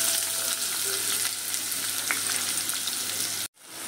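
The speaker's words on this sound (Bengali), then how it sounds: "লাউটা এখন বাগার দিয়ে দিব।" Bottle gourd is tempered in a pan, giving a steady close sizzle and crackle of frying with faint stirring, broken by a brief drop in sound near the end.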